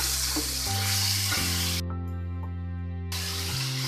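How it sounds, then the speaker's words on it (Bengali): Chicken, vegetables and spices sizzle and crackle loudly in hot oil as they are stirred in a pan, a steady close frying hiss with a brief quieter gap midway. "টমেটো ছাড়া বাকি সব সবজিগুলো দিয়ে দিচ্ছি নেড়ে দিচ্ছি"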